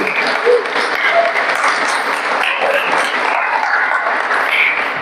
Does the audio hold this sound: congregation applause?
yes